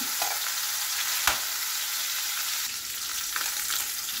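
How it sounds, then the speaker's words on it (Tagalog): Marinated pork frying in a pan until browned, a steady close sizzle with a brief sharp crackle near the start and faint stirring later, no talk. "At lutuin ko lang siya. Hanggang mag-brown."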